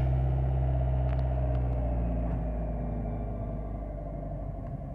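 A car engine idles with a deep, steady rumble close by, its low drone easing slightly in level as it settles, with no talking over it.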